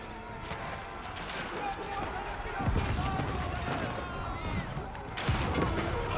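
Great bombards fire during an Age of Empires IV siege battle, two heavy booms landing a few seconds apart beneath continuous commentator talk and busy battle noise.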